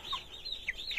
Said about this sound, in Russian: цыплятки. Им около месяца.